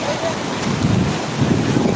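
Sea waves and strong wind roll in at a beach, a loud broad rush buffeting the microphone, with a voice faintly present underneath.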